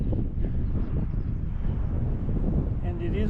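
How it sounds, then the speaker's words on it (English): Strong wind buffets the microphone in a continuous low roar at a wind farm on the Pacific Crest Trail, gusting unevenly, with a voice briefly audible near the end. "and it is windy"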